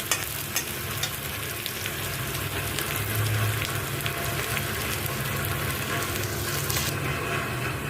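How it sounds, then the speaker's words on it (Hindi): Finely chopped small onion fries in hot oil in a pan for fish curry, a loud steady sizzle with occasional stirring scrapes and no talking. "इसको गोल्डन ब्राउन होने देंगे प्याज को"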